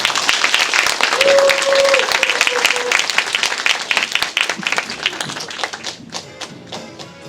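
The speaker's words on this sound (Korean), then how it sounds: "귀한 말씀을 나눠주실 강금실 경기도 기후대사님께 큰 박수 부탁드립니다" A forum audience on climate change gives loud, dense applause and scattered clapping that gradually thins out, filling the room without speech over it.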